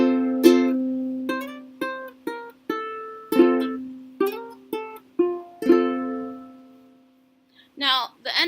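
Ukulele picking the melody of a song, single plucked notes ringing in a steady lilting rhythm, close and clear, ending in a pause before a voice begins to speak.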